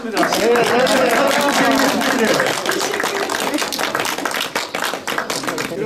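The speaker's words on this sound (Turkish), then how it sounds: "en büyük alkışlar sana" Audience applause at a project results event in Turkey, dense sustained clapping from a crowd, loud and close, with a voice speaking over it at the start and the clapping thinning toward the end.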